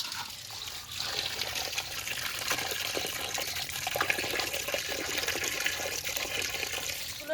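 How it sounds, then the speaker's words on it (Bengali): Cut fish being washed under running tap water, heard as a steady, continuous splash and trickle throughout, fairly close and unbroken, with no talking. "জল দিয়ে ভালো করে ধুয়ে নিয়েছি"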